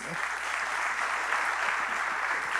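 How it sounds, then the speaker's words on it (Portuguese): An audience claps to welcome a football champion at a men's church gathering, steady dense applause heard from a slight distance and lasting throughout. "vamos recebê-los com uma salva de palmas"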